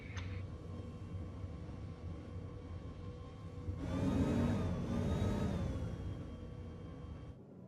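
Humvee-type vehicle engine in a video game, a low steady drone that rises into a louder revving surge midway, then settles back, heard without talk.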